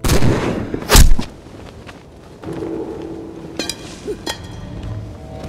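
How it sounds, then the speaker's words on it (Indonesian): A rifle gunshot in a war film set at the Indian frontier, one sharp loud crack early on, followed by quieter ambient rumble, a brief tone and a few small impacts. "peluru senapannya itu akan melaju kencang berkali-kali"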